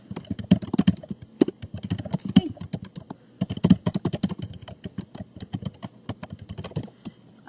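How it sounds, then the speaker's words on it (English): Rapid, uneven clicking of a computer keyboard as someone types at a desk, close and fairly loud, with short pauses between bursts of keystrokes and no voices. "I was typing out the answers that everyone can see it if they go back through"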